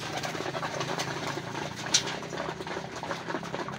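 Racing pigeons coo softly and continuously close by, their low burbling calls overlapping against a murmur of background noise, with a brief sharp click partway through.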